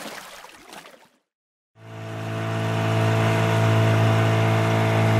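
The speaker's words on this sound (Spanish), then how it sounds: "Lancha larga." A longboat engine starts after a brief silence and settles into a steady, droning hum that grows louder and fuller as it runs on, close by, with no voices.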